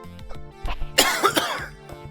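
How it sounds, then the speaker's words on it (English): A person coughs close to the microphone, with a few harsh bursts and some throat clearing amid quiet room tone. "I'm at least trying to move the microphone away from my mouth when I cough."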